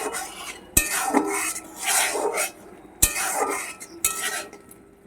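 A spatula stirs and scrapes masala frying in oil in a pan, with sharp metallic knocks against the pan at intervals and a steady sizzle between the strokes.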